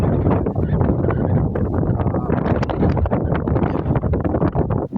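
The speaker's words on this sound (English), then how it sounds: "right now I'm behind the mountain, so the wind's not that bad, but it's still pretty bad." Strong wind buffets the microphone on a hike at Parowan Gap, a loud, continuous roaring rumble with gusty surges throughout and no one speaking.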